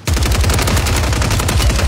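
Loud, sustained automatic gunfire from a shooting video game, a rapid continuous stream of shots filling the whole moment with no pauses and no talk.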